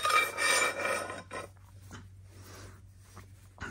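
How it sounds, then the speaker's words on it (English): A metal pipe slides into the handle of a rolling machinist tool cart in a workshop, giving a close rasping scrape that starts loud and fades into a few quieter rubbing and knocking sounds. "So then we slide our pipe in."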